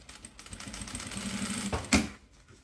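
A sewing machine runs a steady stitching line, sewing lining over a zipper on a fabric bottle holder. The needle chatters quietly and rhythmically, then speeds up briefly and stops, with no talk.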